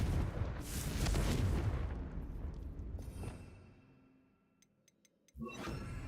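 Fire-blast spell in Hogwarts Legacy on Switch, a heavy explosive boom that swells and slowly fades, a few faint chimes, then another sharp blast near the end.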